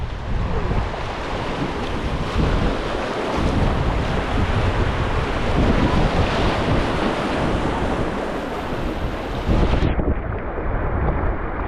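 Whitewater rapids rush and roar steadily around a river boat, a loud, continuous broadband wash mixed with wind buffeting the microphone, with no voices, cutting off abruptly near the end.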